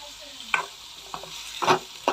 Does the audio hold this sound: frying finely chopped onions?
yes